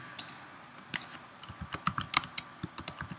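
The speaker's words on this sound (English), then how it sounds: "just click the T on your keyboard" Computer keys are pressed in a quick, irregular run of light clicks, close and fairly quiet, with no talking.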